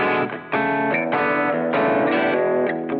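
Distorted electric guitar strums chords in a bluesy progression, loud and close, with chorus and effects coloring the sound.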